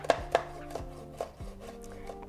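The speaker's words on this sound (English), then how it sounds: "I'm going to finely slice these as well," A knife finely slices chili and coriander leaves on a cutting board, giving several sharp, close taps at uneven intervals, a couple louder than the rest, with no speech.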